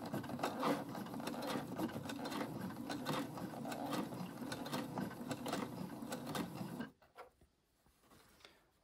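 A sewing machine stitching the placket of a split shirt runs in a fast, steady mechanical chatter up close, then stops abruptly near the end, leaving a few faint handling clicks.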